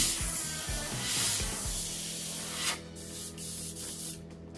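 An airbrush sprays paint onto a tumbler in a continuous close hiss that shifts slightly in strength, then drops to a softer, thinner spray near the end.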